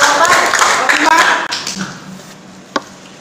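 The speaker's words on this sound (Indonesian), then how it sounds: "Tepuk tangan." A classroom of students breaks into brief applause, a burst of clapping that fades within about two seconds, followed by a lone sharp tap in a quieter room.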